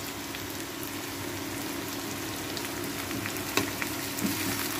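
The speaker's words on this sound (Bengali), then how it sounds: "প্ৰথমতে আমি পিঁয়াজখিনি ভাজি লৈছোঁ" Onions frying in oil for Hyderabadi biryani make a continuous, even sizzle with a faint crackle, fairly close, ending in a couple of small pops and clicks near the end.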